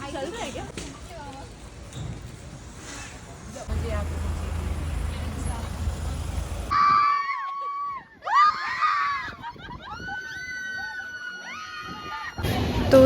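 Friends scream on amusement park rides in Korea, with loud sustained shrieks rising and falling after traffic-like rumble and chatter. Several voices yell close by in overlapping bursts.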